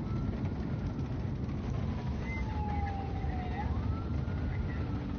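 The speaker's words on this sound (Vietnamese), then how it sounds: "Đi xe gì á? Xe cấp cứu." An ambulance siren wails in the distance, its tone gliding up and down once while passing, under steady close road and engine rumble from inside a vehicle.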